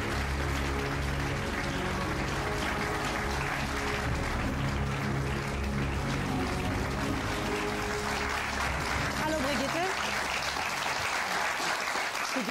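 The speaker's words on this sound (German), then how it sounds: "Applaus" Studio audience applause on a German daytime talk show as a guest is welcomed, sustained dense clapping with a steady roar, loud and continuous throughout with music underneath.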